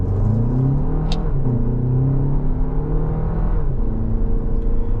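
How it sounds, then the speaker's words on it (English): A 2025 Toyota Grand Highlander XLE AWD with the turbo four-cylinder accelerating under load, heard from inside as a loud steady engine drone that climbs through the revs over a road rumble and dips once as if through a shift. "You are going to get some noise coming out of this driveline when you're under load, getting it up to speed on the highway"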